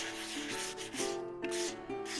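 Sandpaper rubs back and forth over a soapstone oloid in steady, close strokes, a dry gritty hiss rising and falling about every half second with no voices.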